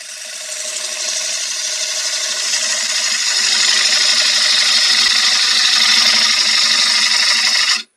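A power tool grinds and rubs against wood while hollowing out the inside of a wooden vase, giving a steady, loud, close abrasive whir that holds for about eight seconds before cutting off abruptly.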